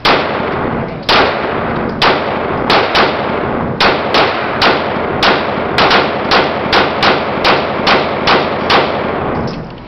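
Glock 19 Gen 6 pistol emptying a magazine, loud close sharp gunshots in an uneven rhythm, first spaced apart and then quicker in the second half, each crack followed by a short echoing decay.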